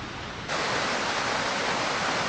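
Steady rushing water from Daranac Falls in Tanay pours loudly and continuously, a dense waterfall roar that swells slightly after the first half second.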